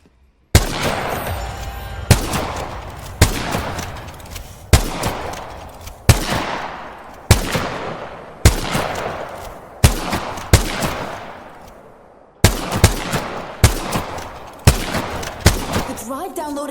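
Gunfire in the video game Apex Legends: a series of sharp, loud shots or short bursts spaced about a second apart, each ringing out and decaying, with a brief pause midway before the firing resumes.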